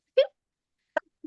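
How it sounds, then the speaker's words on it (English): A quick, sharp sneeze bursts out once, followed by a brief breathy vocal sound and a short murmur. "I'm gonna sneeze."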